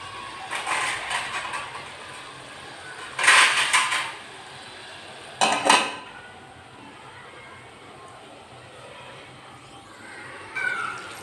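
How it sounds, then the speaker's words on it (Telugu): A lid clanks onto a cooking pot of simmering bitter gourd tamarind stew (kakara kaya pulusu), making a few separate metallic knocks and rattles close by over a quiet kitchen background, with no talking. "ఇప్పుడు మూత వేద్దాం"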